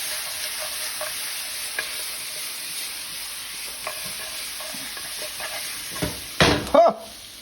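Food stirred in a pan while making tomato breidi with fresh ginger, a faint background sizzle broken by a few soft scrapes and a louder clatter of the spoon near the end.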